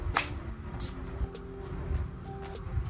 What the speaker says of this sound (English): I'm going to use my Milani Make It Last Fruit Fetish Dragon Fruit Peach setting spray